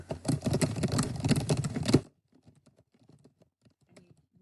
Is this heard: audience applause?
no